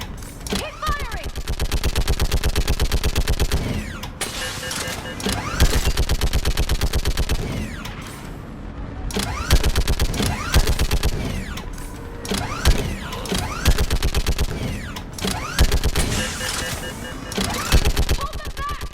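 Sustained automatic weapon fire in the video game Mass Effect 3, with rapid rhythmic bursts and mechanical clatter repeating throughout under battle noise and talking.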